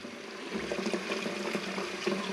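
Cold water running steadily into a bucket, a continuous close rushing and splashing stream that holds an even level throughout, with no voices.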